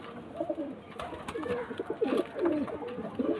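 Soft, repeated cooing from a Kamagar pigeon, a few low throaty coos in a row, close by over a faint steady background hum.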